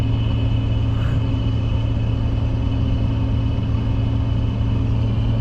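A hydraulic landfill tipper trailer raises behind a truck, heard as a steady, loud mechanical drone and rumble with a constant tonal whine, holding unchanged throughout.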